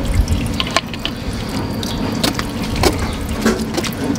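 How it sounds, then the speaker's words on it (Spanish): Bottled jug water poured into a pot of birria de costilla, a steady close splashing stream with a few drips, continuous and loud with no talk. "Échale tantita agua de garrafón, Arturito, por favor."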